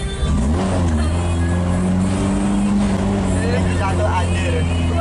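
A Daihatsu Feroza engine labours steadily while climbing a steep hill in second gear near Menganti beach, Kebumen, with a continuous low, loud drone under people speaking anxiously throughout.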